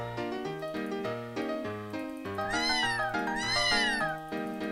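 A cat meows repeatedly in a video game, several drawn-out meows over a steady musical background, fairly close and clear.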